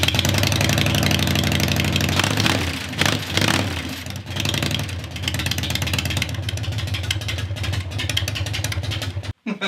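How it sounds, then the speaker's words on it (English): An old Harley-Davidson Softail with an Evo engine, left sitting for years, runs steadily up close with a loud, rough, throbbing rumble, then cuts off abruptly near the end. "getting this old Evo bike running that's been sitting for a long time"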